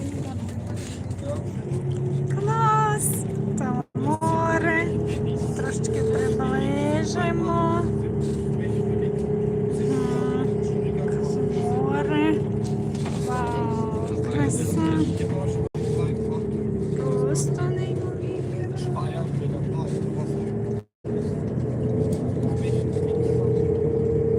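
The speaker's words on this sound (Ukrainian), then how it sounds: "ми їдемо автобусом" Steady engine drone and road rumble from inside a bus on a winding scenic road, continuous throughout with a couple of brief dropouts, while people talk over it.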